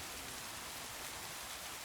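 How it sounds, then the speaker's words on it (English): Steady, even rain hisses throughout in a modded Minecraft world, a continuous soft wash of falling water with no voices. "Rain."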